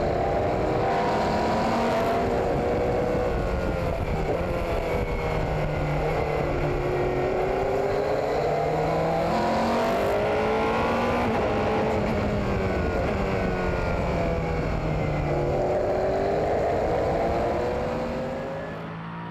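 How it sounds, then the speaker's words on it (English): An LMP2 race car engine screams continuously around Fuji Speedway, its pitch rising and falling through gear changes as it laps, loud and steady throughout. "Let's enjoy the sounds of the LMP2 machine around the Fuji Speedway."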